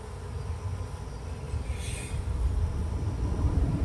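Honeybees buzz from an open hive during a queen-rearing check, a dense steady hum close by that swells slightly louder toward the end, with no talking.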